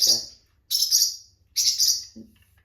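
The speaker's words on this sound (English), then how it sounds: "my little bird is so excited whenever anything happens" A small pet bird chirps excitedly near an Italian Nomade loom being unboxed, giving three bright bursts in quick succession, each with short breaks between them, loud and close.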